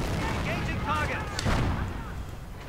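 Gunfire and battle noise from the World War II strategy game Company of Heroes, with a rifleman being sniped; a dense, continuous din of shots and blasts fills the scene while a commentator talks over it.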